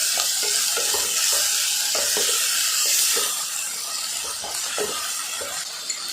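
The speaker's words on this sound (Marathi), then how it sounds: "आता यामध्ये 1 वाटी टोमॅटो घालायचा आहे. मिश्रण छान असं परतून घ्यायचं आहे." A tomato and onion mixture for spicy Marathi kat vada sautés in a pan, with steady sizzle and hiss and repeated close scraping stir strokes throughout.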